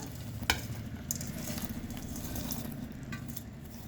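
Bitter gourd pieces crackle and sizzle steadily in a hot pan with turmeric and salt, the frying broken by a few sharp scrapes of a stirring spoon at moderate volume.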